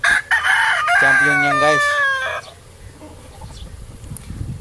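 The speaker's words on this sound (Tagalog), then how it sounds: "Mga champion ng manok dito" A backyard champion fighting rooster crows loudly nearby in a long rising-falling call, with someone briefly talking before and a few soft clucks trailing after.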